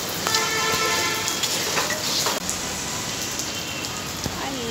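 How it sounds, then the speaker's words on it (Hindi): Heavy rain pours steadily, a dense close hiss with scattered drips and splashes; no voices. "बारिश स्टार्ट हो गई है"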